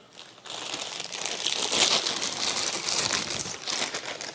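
A plastic bag of small accessories from a Lenovo IdeaPad Gaming 3 laptop box crinkles and rustles continuously up close, steady handling noise lasting several seconds after a quiet start.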